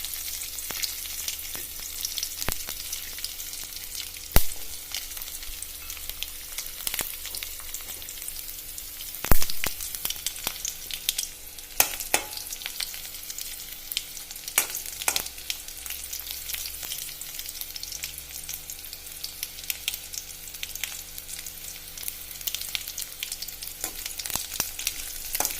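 Garlic fries in a pan for vanpayar thoran, a red cowpea stir-fry. It gives a steady, close sizzle with scattered crackles and occasional sharp clicks of stirring, and no one speaks.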